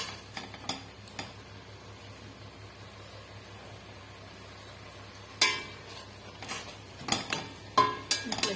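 Garlic frying in a pan with a faint, steady sizzle, later joined by sharp scraping and clinking as it is stirred.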